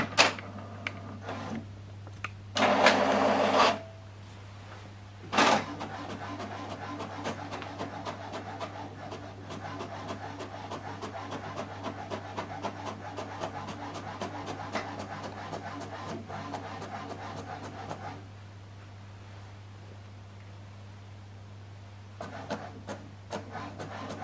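An HP DeskJet inkjet printer runs a document print job, giving a steady mechanical whir with soft ticking and rubbing of paper feed, preceded by a few louder bursts of motor noise, close and alone without speech.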